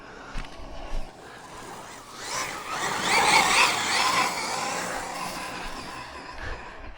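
Tekno SCT410 2.0 RC short course truck on bald rear tyres, a broadband whirring rush from its electric drivetrain and tyres that builds to a loud peak mid-pass and then holds steady, heard close with no talk.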